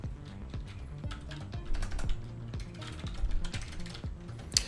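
Quick, uneven keystrokes on a computer keyboard while logging in to a Raspberry Pi, a close run of clicky taps with short pauses and a final sharper press.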